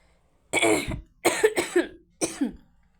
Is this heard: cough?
yes